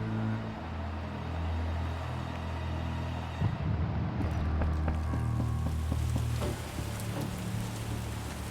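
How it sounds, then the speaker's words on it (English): Steady rain pours at night in The Witcher video game, a continuous broadband hiss over a low rumble that thickens slightly partway through, with no voices. "Rains and it pours."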